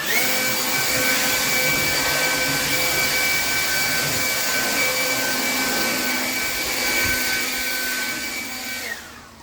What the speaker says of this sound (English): Blowers, I can get my yard cleaned up in no time.